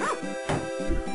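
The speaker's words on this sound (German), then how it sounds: "Da ist unser Hund, denke ich mal." Dog in the farming video game Harvest Moon, a couple of short bright barks over continuous game music.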